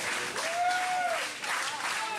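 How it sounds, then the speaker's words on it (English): Wrestling crowd cheering and applauding for Fantasy ringside at a Continental Championship Wrestling event, a steady moderate roar with a rising whistle-like voice, heard without talk. "And you hear the fan support there for Fantasy."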